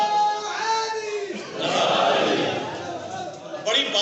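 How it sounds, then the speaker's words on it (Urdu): Crowd at a poetry gathering in Rajanpur, South Punjab, chanting slogans together as a loud collective shout that swells in the middle and fades, with someone speaking before and after it. "مائک کے بغیر بھی تو نعرے لگا سکتے ہیں نا"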